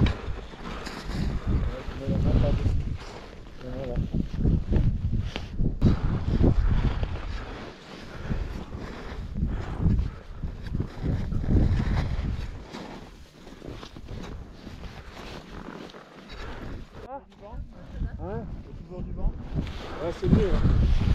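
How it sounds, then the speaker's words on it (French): Strong wind buffeting the microphone high on Monte Rosa near the Breithorn and Dufourspitze, a loud continuous rumbling roar with gusts, and voices speaking now and then beneath it. "Bon, il y a du vent quand même, hein."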